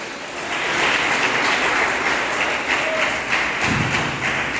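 Steady clapping from a church congregation fills the whole stretch, a dense, even wash of applause with a soft thump near the end.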